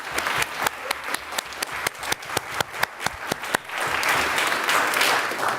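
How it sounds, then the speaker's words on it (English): Congregation clapping for volunteers at a church assembly, starting as loud rhythmic unison claps in a steady beat, then dissolving into a continuous wash of scattered applause. "Let's clap for them."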